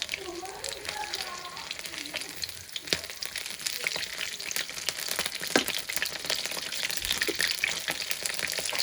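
Fish frying in a small amount of oil crackles and sizzles steadily up close, with sharp pops scattered throughout and voices murmuring faintly beneath it.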